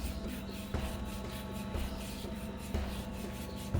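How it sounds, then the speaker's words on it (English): Fresh ginger rubbed against a handheld stick grater, giving a close, quiet rasping scrape in repeated strokes of roughly even rhythm, with no talking over it. "we're going to grate about a teaspoon of ginger in here. I got this handy little stick grater today."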